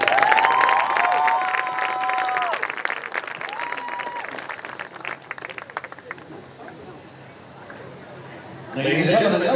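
Audience at a school music performance event applauding performers, dense clapping and cheering with whistles at first, thinning to scattered claps, then a fresh burst of loud applause near the end.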